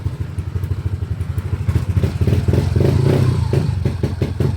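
Yamaha Aerox V3 scooter with a turbo bolt-on setup, idling close by with a lumpy, rapidly pulsing exhaust that grows slightly fuller and louder partway through, no talking.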